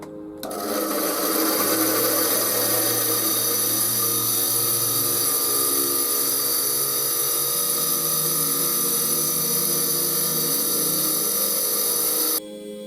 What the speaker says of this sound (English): let's go and give it a grind